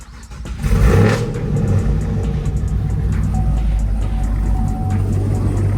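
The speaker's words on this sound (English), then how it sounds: "All right, we get ready to start the car." A 5th-generation Chevrolet Camaro with an LS V8 cranks and fires, then settles into a loud, steady, rumbling idle close by.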